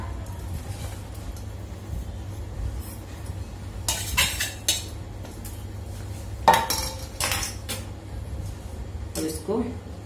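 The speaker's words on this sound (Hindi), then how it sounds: "चाकू की सहायता से मैं मिक्स कर रही हूँ।" A knife mixes karonda berries and green chilies for pickle in a bowl, giving a few sharp, scattered clinks and scrapes beneath someone talking.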